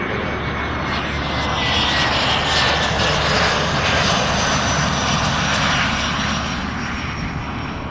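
An Embraer Phenom business jet lands at Scottsdale Airport, its engine roar steady and loud throughout with a high whine riding on top, no talk over it.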